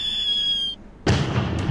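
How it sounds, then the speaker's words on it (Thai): Fireworks launched in the sandbox game Mini World: a high whistling tone fades out, then a sharp, loud burst erupts with a crackling tail and a second pop, heard alone. "จุดพลุก่อน"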